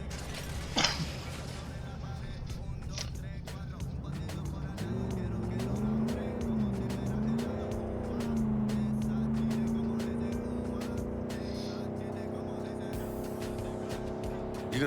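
Engine drone of a car driven in the video game Cyberpunk 2077, steady and rising in pitch as it accelerates, with a passing vehicle whoosh, running throughout under occasional game sounds.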